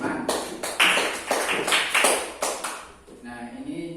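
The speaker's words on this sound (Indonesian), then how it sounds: "Kita beri tepukan dulu untuk yang sudah berani masuk ke depan." A classroom audience claps for the people who came to the front: a burst of dense, lively applause that lasts about three seconds and fades out, then a voice starts talking.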